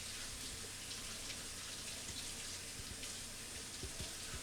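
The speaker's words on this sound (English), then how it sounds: "For that we should first wash 2 eggplants." Two eggplants are washed under a running kitchen tap, a steady close rush of water with small splashing shifts throughout.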